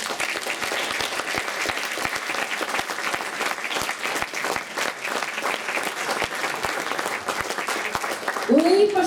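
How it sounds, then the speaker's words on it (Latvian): Sustained audience applause fills a hall at a senior dance group's anniversary concert, a dense steady clatter of many hands clapping throughout, with a voice briefly rising near the end. "Aplausi! Aplausi!"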